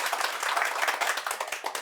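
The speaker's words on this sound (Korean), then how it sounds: "오늘도 열띤 강의를 해주신 신부님께 큰 박수 부탁드리겠습니다" An audience claps after a priest's lecture on the Book of Revelation: dense, steady applause from many hands, fairly close and continuous, with no voices.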